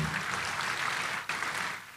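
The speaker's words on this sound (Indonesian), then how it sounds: "Tepuk tangan yang meriah buat Tuhan." A church congregation claps during a sermon, a short burst of moderately loud applause with a brief dip in the middle before it swells again.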